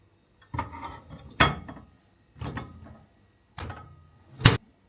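Dishes and utensils clink and scrape in four separate bursts, with brief quiet gaps between, close by and moderately loud, as chicken adobo is moved to a larger plate.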